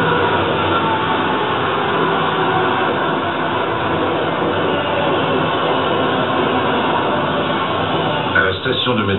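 A New York subway train on the M line in Queens, a loud continuous rumble and rattle of the car in motion, with a voice talking over it.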